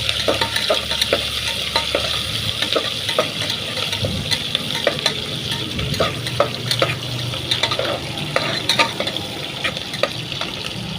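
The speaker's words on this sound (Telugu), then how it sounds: "ఎర్రగడ్డ, మిరపకాయ, కరివేపాకు అన్నీ వేసుకుందాం. బాగా ఒకసారి బాగా కలిపేసుకుందాం." Onions, chilies and curry leaves sizzle in hot oil for a chicken biryani, with a steady fry hiss and repeated close scrapes and clinks of a spoon stirring the pan throughout.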